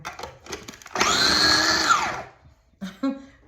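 A food processor chops walnuts in a short burst of loud whirring and rattling that lasts about a second and a half, then cuts off, with a few clicks and knocks before and after.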